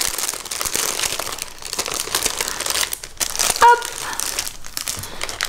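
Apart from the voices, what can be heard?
opening a wrapped package of small candies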